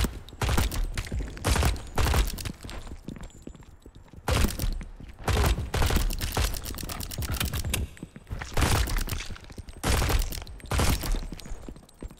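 Automatic gunfire in the video game MILO while shooting rats and zombies: repeated loud bursts of rapid shots separated by short pauses, sharp and close, with mechanical clicking between volleys.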